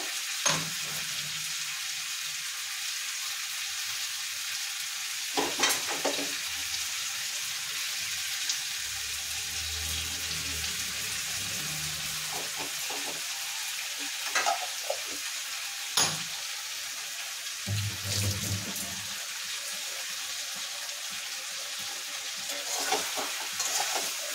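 Meat sautés with spices, ginger and garlic in a pan, a steady moderate sizzle punctuated by intermittent stirring scrapes and spoon knocks, close by with no talking.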